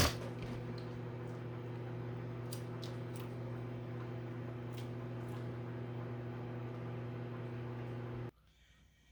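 Steady electrical hum of a microwave oven running, with a few faint clicks, then the drone cuts off abruptly near the end.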